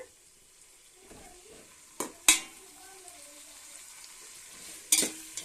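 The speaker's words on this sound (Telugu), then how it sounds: "ఆయిల్ వేడైన తర్వాత చూడండి పచ్చిమిర్చి టమాటా ఆనియను కరివేపాకు వేసి అయితే వేయించుకుంటున్నానండి హైలో పెట్టుకుంటా" Green chilies, tomato, onion and curry leaves fry in hot oil on high heat, with a soft continuous sizzle broken by a few sharp metallic clanks of stirring against the pan.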